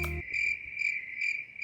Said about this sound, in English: I know you're about to add like cricket sound effects.